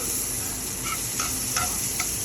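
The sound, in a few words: bacon grease and homemade butter sizzling in a pan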